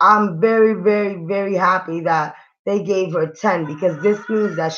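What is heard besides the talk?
No everyday noises stand out.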